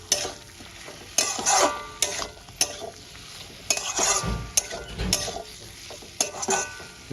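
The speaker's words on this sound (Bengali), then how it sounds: "দিয়ে আমি মশলাগুলোর সঙ্গে কষাতে থাকি" Spices and red chili powder are sautéed with katla fish heads in a pan, giving a soft sizzle broken by irregular scraping and stirring strokes of a spatula against the pan, close and clear with no voices.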